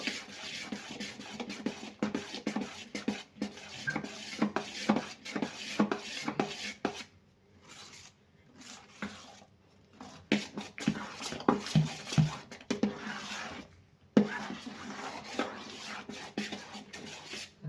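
Idli batter is stirred by hand in a bowl, giving soft, irregular wet squelching and rubbing sounds, close and fairly quiet, with a couple of brief pauses between stretches of mixing.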